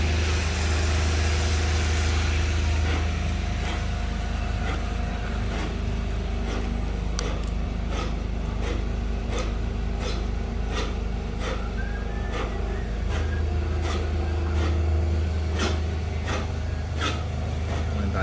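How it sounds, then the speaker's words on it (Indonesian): A black foam cutting machine runs steadily with a constant low hum, while sharp periodic ticks and rasping strokes repeat at a regular pace through the cut, with no voices present. "Ini semua dipotong dengan mesin itu ya."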